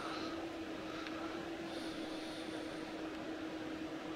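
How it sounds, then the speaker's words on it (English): Steady whirring drone of the cooling fan on a Turbostar diesel train in Train Sim World's Fife Circle Line, running continuously with a constant hum and faint higher hiss, with no voices. "I think that's the sound of the cooling fan on the Turbostar"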